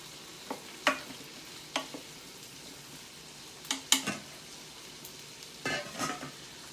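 Carrots being stirred and sautéed in a Power XL cooker: a handful of sharp utensil scrapes and clatters against the pot, spaced irregularly over a faint background sizzle, with no talking.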